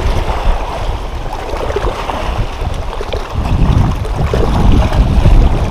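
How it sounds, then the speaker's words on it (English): Strong wind buffets the open air over a lake, a loud, continuous roar with gusting surges and water lapping beneath, building louder toward the end. "That wind is crazy."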